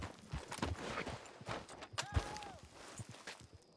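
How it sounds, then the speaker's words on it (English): A horse's hooves clop along at a quick pace in Red Dead Redemption 2, played on a RedM roleplay server. The hoofbeats are quiet and somewhat distant, mixed with soft game ambience and a brief tonal sweep. "I hear a horse galloping."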